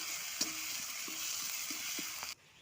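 Garlic paste frying in a pan for egg curry, a steady close sizzle with a few soft stirring knocks of the spoon, cutting off abruptly near the end.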